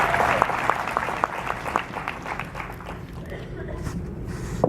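A crowd at a regional event applauds, distinct claps sounding clearly at first and then thinning out and fading toward the end, with a low murmur underneath.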